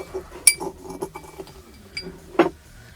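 A metal teaspoon clinking against a glass cup while salt is added for a hot-water dissolving experiment, two sharp bright clinks separated by softer scraping and tapping.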